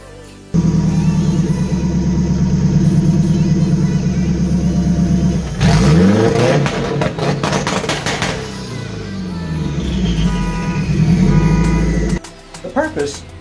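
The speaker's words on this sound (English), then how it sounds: "As the engine pops and bangs, it creates more boost." A car engine holds revs on launch control, a loud steady throbbing drone broken in the middle by a burst of rapid pops and bangs, then back to the drone before it cuts off abruptly at the end.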